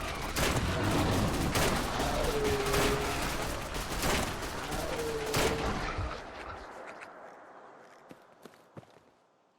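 Video-game automated turrets in Fallout 4 blast at zombies with rapid bursts of gunfire, dense volleys and scattered footsteps filling the first six seconds before the shooting thins to a few isolated shots and fades toward quiet.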